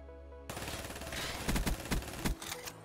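Video game gun, a longbow-style weapon on rapid fire: sudden start after a brief quiet, then a fast stuttering volley of close, punchy shots in uneven bursts over a dense noisy backdrop.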